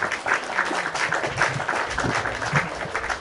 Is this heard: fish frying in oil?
no